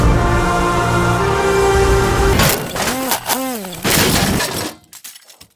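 A DJI Mavic Air 2 drone crashes on a Greek island, ending its steady propeller whine in a loud burst of breaking and clattering impacts, with whirring fragments and then a sudden drop to near silence.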